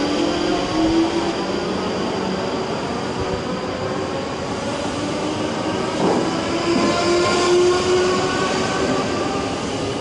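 A pair of class 458 electric multiple units pulls out of Clapham Junction on a Reading service, a loud, continuous rumble of wheels on rails with faint squeals and a steady whine.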